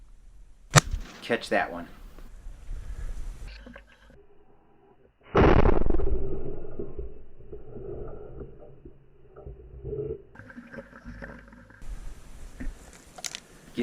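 Shotgun blasts during a Colorado waterfowl hunt, with a few sharp reports early and one big loud shot midway, separated by quiet stretches, reloading handling and brief spoken remarks.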